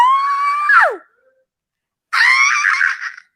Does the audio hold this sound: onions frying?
no